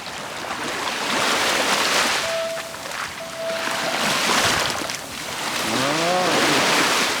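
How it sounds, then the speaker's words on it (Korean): Soft ocean waves wash in and recede over a black sand beach in slow repeating surges, with brief tonal chirps in the background and no talking. "파도 소리가 아주 잔잔하게 계속 치고 있습니다."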